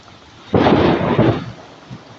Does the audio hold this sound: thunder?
yes